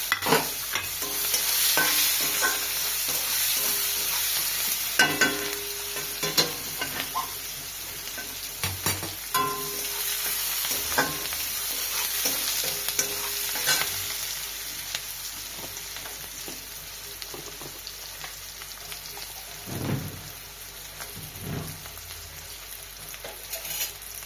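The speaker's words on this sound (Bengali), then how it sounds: "এবার আমি পেঁয়াজ দিচ্ছি।" Onions fry in hot oil with bay leaf, chili and cumin for a rohu fish curry, sizzling continuously while a utensil stirs and scrapes the pan at irregular intervals.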